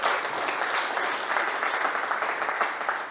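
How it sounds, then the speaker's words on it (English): A conference audience at SOOCon23 platform engineering event claps for a speaker, dense sustained applause filling the room at even loudness throughout, with no talking over it. "Big round of applause for David."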